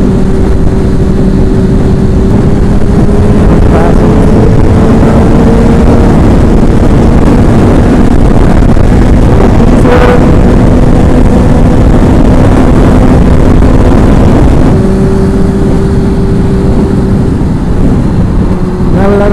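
A dark anthracite gray Ferrari runs along the highway, a loud, close engine drone with sustained tones that rise and shift through gear changes, under heavy wind and road roar.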